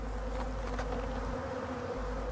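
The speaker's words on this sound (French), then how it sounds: "ça commence à bien se remplir d'abeilles" A dense, steady buzz of many honeybees humming together on honey super frames, close and continuous with a low droning tone throughout.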